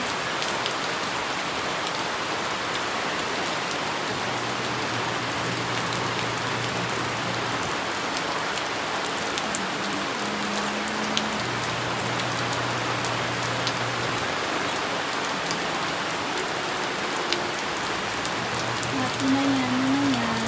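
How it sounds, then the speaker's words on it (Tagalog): Heavy rain pours steadily onto surfaces around a home garden with potted plants, a loud continuous hiss with a low hum underneath throughout. "Sobrang lakas ng ulan."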